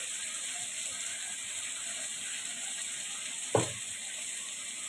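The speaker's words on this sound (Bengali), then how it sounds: "হালকা ফ্রাই হবে আলুটা" Potato pieces fry lightly in a pan with a steady, soft sizzling hiss, broken once by a brief clatter near the end.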